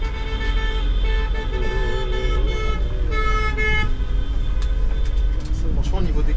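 Car horns honk in long sustained toots for a wedding on a Paris-area street, heard near and loud over a bus engine's rumble, with people talking.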